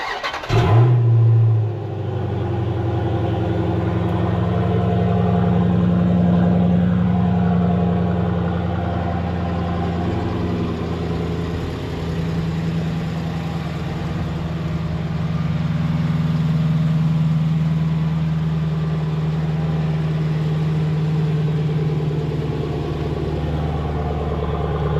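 A 2017 Jeep Grand Cherokee SRT engine cranks and catches with a sharp start, then settles into a loud, steady, deep idle that holds close and unbroken, with a slight rise in revs partway through.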